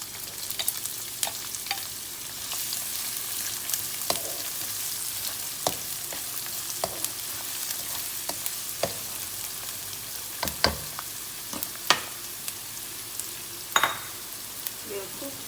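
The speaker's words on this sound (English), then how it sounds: "We'll cook the onion for a short while first before adding the garlic and ginger paste." Onions frying in a pan with cumin seeds for a dhal curry, giving a steady close sizzle with occasional sharp crackles and scraping stir clicks throughout, no voices.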